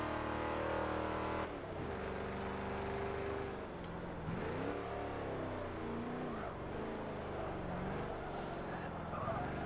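An 800hp GMC Vandura van roars through a Forza 7 race, its engine droning and shifting pitch steadily as it accelerates, with a voice speaking over it throughout.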